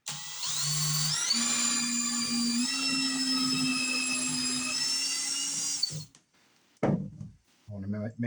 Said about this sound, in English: the next step is going to be to drill some pilot holes here